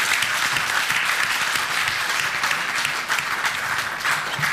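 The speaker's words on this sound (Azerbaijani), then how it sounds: "Hətta çəkiliş heyəti belə alqışlayır oradan." A film crew applauds on a television music show set, a steady, dense clapping that stays loud and even throughout, with no voices rising above it.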